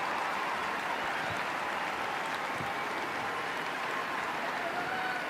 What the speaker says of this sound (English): a round of applause, which will be ongoing, you'd fancy, today for the number 10, Jess Fishlock